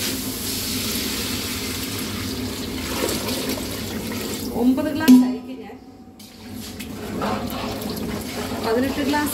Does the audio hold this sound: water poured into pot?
yes